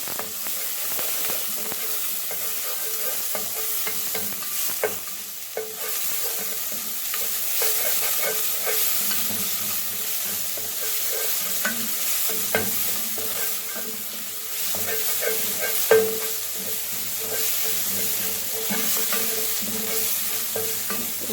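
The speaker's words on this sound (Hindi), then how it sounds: "अब हम इसमें ऐड कर लें अपना सूखा हुआ लहसुन, ये ऐड करके इसे अच्छी तरह से भून लें।" Dried garlic frying in hot oil, a steady close sizzle with occasional scraping and stirring clicks throughout.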